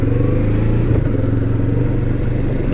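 A Kawasaki Vulcan S motorcycle rides on dirt trails with a low, steady engine rumble and some rattling clatter, close and loud, without talk.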